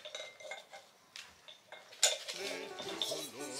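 A new cooking pot for ramen being handled, with light metallic clinks and taps of pot and lid, a brighter clang near the middle, and quiet voices talking underneath.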